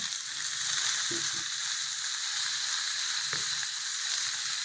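Tomato sizzling and frying with sautéed onions in a home pan, a steady broadband hiss throughout with a few soft stirring knocks near the start and later, close and fairly loud, no talking.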